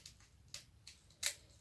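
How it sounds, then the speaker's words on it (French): Paper being cut with scissors, four short crisp snips spaced unevenly, the last one sharpest and loudest, close-up and quiet with no talk. "On va couper tout ce qui dépasse."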